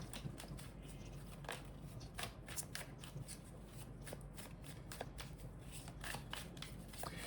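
Tarot cards being shuffled and drawn by hand, a quiet close run of papery riffles and crisp flicks repeating in irregular bursts, with no talking.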